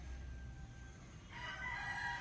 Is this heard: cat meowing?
no